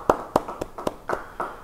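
A church congregation gives a few sparse, rhythmic hand claps, about six distinct sharp claps spaced roughly a quarter second apart, fairly close and moderately loud.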